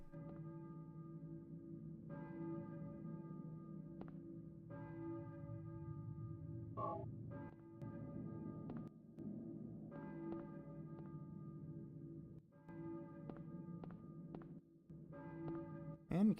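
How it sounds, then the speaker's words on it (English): A church bell tolls in the distance in the Silent Hill video game, slow repeated strikes with long ringing tails over a steady low ambient drone, no voices. "you can hear a bell going off in the distance"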